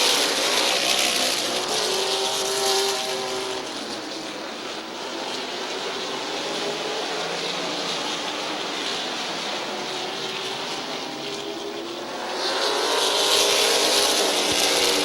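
Race cars roar around Midvale Speedway, a loud sustained engine drone that swells as the pack passes near, dips a little in the middle and surges again toward the end, with no voices over it.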